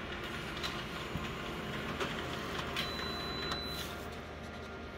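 Photocopier running while it makes a large enlargement copy: a steady mechanical whir and hum with faint periodic clicks and ticks, continuous and moderately quiet throughout, with no talking.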